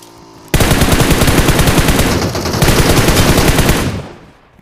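Rapid automatic gunfire from PUBG Mobile, the mobile battle-royale game, erupts after a brief quiet start and rattles on in loud, dense continuous bursts for several seconds before cutting off.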